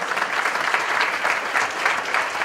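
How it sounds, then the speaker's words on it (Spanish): Steady, loud applause from a crowd at a living statues contest show, continuous clapping throughout without pauses. "Aplauso para Hugo."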